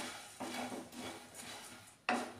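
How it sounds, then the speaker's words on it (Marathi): Puffed rice (murmure) tipped into a hot kadhai and stirred to roast, giving dry rustling and scraping with a few sharp metallic clinks of the utensil against the pan, close and fairly quiet, with no talking. "तर हे सर्व मुरमुरे आपण कढई गरम झालेला आहे टाकून घेऊया. आता याला व्यवस्थित आपण परतून घेऊया."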